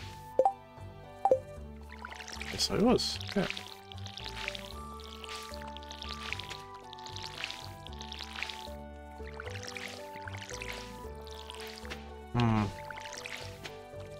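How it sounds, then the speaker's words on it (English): Watering can sprinkling plants in Stardew Valley, a series of soft rhythmic splashy pours repeating about once a second over game music, with brief talk at the start. "I was gonna water plants."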